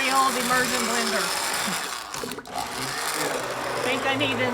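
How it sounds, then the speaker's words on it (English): A handheld immersion blender whirs through homemade tomato sauce in a home kitchen, a steady motor drone that wavers and briefly cuts out midway before resuming, with a voice talking over it. "Immersion blender."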